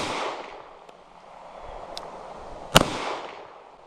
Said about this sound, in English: I'm going to try to drop both shots on the same one.